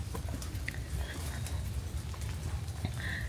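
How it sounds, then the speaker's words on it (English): Rain falls on a quiet day in Kyoto, a steady hiss with low rumble and scattered drips and taps close by, continuous throughout. "the rainy day in Kyoto is incredible too."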